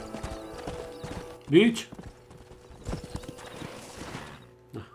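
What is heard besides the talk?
horses trotting in Red Dead Redemption video game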